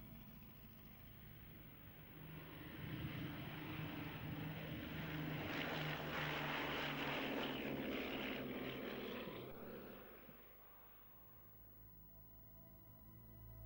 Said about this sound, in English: Pilot John Larkham powered up the engines and the Blenheim began to roll